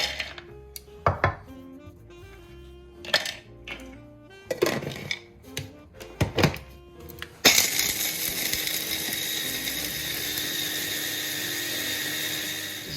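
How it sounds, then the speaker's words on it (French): Handfuls of cashews and almonds being ground, first several short pulses of the grinder, then a steady loud whirring grind for the last few seconds, close up with no talking. "je vais prendre une poignée comme ceci de noix de cajou, la même quantité d'amandes et je vais les broyer"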